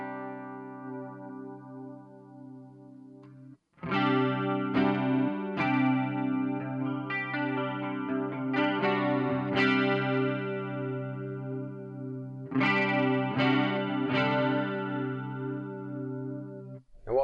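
Electric guitar played through a Marshall MG2FX amplifier with its chorus effect engaged: a sustained strummed chord, then repeated picked chords and notes with shimmering, wavering tone, loud and close, no talking.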